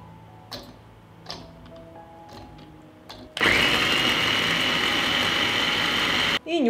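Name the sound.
hot pepper minced in a food chopper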